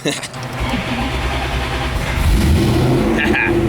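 A modified Chevrolet Corvette C6 burnout car with its engine droning steadily while driving, a loud low rumble that swells slightly toward the end, with people talking over it.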